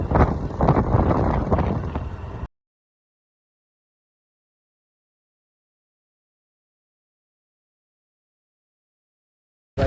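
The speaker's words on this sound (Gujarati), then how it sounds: "પવન આવે ધીમે ધીમે" Outdoor wind buffets the microphone in a loud, rough rumble for about two seconds, then cuts to silence.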